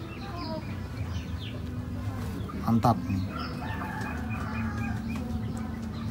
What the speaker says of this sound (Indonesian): ini ada jago. Ini jenisnya koi.